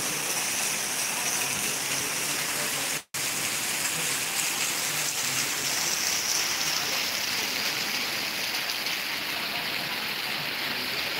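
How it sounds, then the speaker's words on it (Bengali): Steady rain falls in Rajshahi, an even, moderately loud hiss of drops hitting surfaces that continues throughout apart from a momentary dropout early on, with no voices. "আজকে বৃষ্টিটা বেশি ভালো লাগছে"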